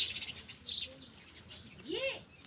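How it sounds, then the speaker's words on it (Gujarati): Sparrows bring food to feed their chicks in a village setting, giving several short bursts of high chirping and tweeting that are fairly faint, with quiet background noise between the calls. "ચકલી જો ખાવાનું લઈ આવી ખવડાવવા હાટું જો ખવડાવવા એમાં ચકલા"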